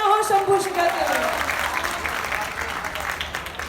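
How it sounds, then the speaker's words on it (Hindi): Applause breaks out for the poet Shambhu Shikhar at a kavi sammelan during a town festival. Loud clapping rises over the tail of the host's voice and then settles into a steady, dense patter that fades slightly. "जोरदार तालियां हो शंभू शिखर के लिए"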